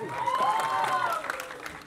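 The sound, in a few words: audience applause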